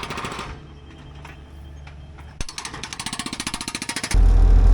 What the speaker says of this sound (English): Using the jackhammer just to loosen it up a little bit.